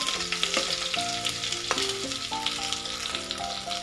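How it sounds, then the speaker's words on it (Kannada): Mustard seeds and crushed garlic in hot oil for nuggekai (drumstick) rasam give a continuous close crackling sizzle, with soft background music underneath. "ನೋಡಿ, ಸಾಸಿವೆ ಎಲ್ಲ ಚಿಟಪಿಟ ಅಂತ ಇದೆ."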